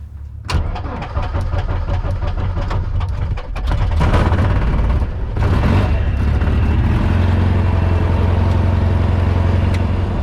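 A Van's RV-4 small airplane engine cranks and catches, then settles into a loud, steady running drone that continues to the end.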